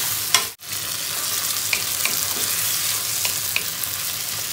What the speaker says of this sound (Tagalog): gisa-gisa ulit po ang ating kamatis hanggang siya po ay malambot